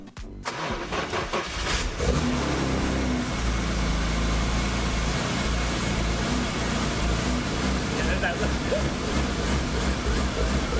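A BMW E46 M3 engine, just back together after a VANOS rebuild, cranks and fires, then settles into a steady, loud running note with some revving, recorded up close.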